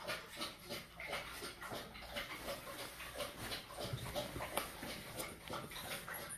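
A big dog lies close by, whimpering and panting in soft, irregular bursts, quiet and intimate, with no one talking.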